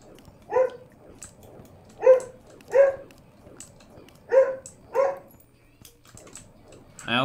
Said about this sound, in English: I also apologize for my dog continuing to bark.